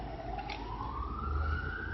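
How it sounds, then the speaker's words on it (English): A siren wails in a single slowly rising tone, somewhat distant and steady over a broad background rumble. "A siren."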